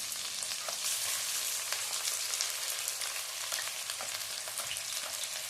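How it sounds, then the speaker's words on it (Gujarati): Fresh turmeric fries in hot ghee, giving a soft, continuous crackling sizzle with fine popping, fairly faint and steady, without speech. "આપણું ઘી ગરમ થઈ ગયું છે હવે આપણે એમાં હળદર નાખીશું"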